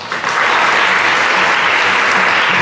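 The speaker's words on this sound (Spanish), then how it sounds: "Un fuerte aplauso, por favor." Loud, dense applause from an audience at a photography talk, swelling in quickly and then holding as a steady, close wash of clapping with no voices over it.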